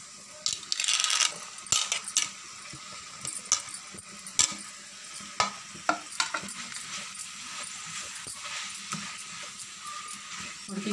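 Parboiled broad bean pieces stirred into a frying masala curry, irregular clinks and scrapes of a spoon against the pan over a soft sizzle, close and fairly loud.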